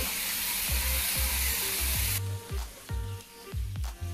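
Vegetables pan-roasting for a veggie burger fill the first half with a loud, bright, steady sizzle that cuts off suddenly, leaving softer crackles and low knocking in the pan.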